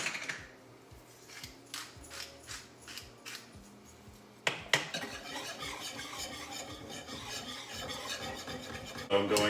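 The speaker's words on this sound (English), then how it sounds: "This is some freshly grounded black pepper." Freshly ground black pepper cranked from a grinder over a pan of Greek pastitsio meat sauce, a string of dry rhythmic rasping turns, then louder scraping and clattering of kitchenware, close and without speech.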